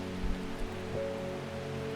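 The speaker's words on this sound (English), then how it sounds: "that rain really wears on the senses" Steady soft rainfall in the video game Strange Horticulture, a constant patter on a surface with low ambient music tones underneath, no speech.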